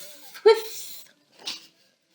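A voice imitates a sprinkler's steady whispering sound with two soft breathy hisses, the first longer and the second shorter, close and quiet.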